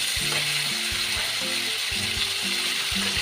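Chicken pieces marinated in salt and mustard oil frying with onions in hot mustard oil, giving a steady close sizzling hiss mixed with intermittent clicking, rattling mechanical sounds.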